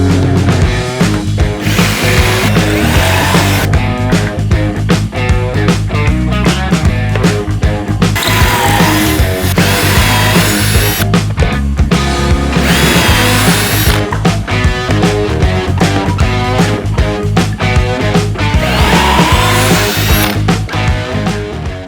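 Power drill boring pocket holes in wood, a loud continuous motor whine with repeated surges and dips as each hole is cut, close and steady throughout.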